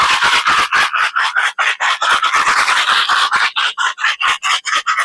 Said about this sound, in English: to use a rattle that you don't often use is a really good way to do it